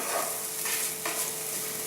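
Chopped tomatoes stirred and sautéed in a hot pan, a soft continuous sizzle with a couple of scraping stirs partway through, close and fairly quiet, no voices.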